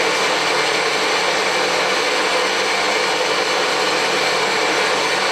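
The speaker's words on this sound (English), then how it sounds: "I've got the machine running at 40 RPM." A horizontal milling machine running at 40 RPM with a 12mm cutter under power feed, giving a loud, constant broadband mechanical whir and hiss that stays unbroken and steady with no talking.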